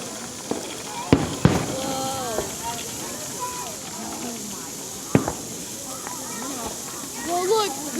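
Fireworks go off at a July 3 display in Albion. A few sharp bangs and crackles sound over a continuous hiss, while people nearby chatter and call out.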